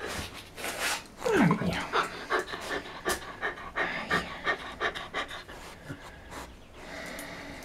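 A dog pants rapidly and lets out soft grunts and a brief whimper, close by, with a person talking quietly over it.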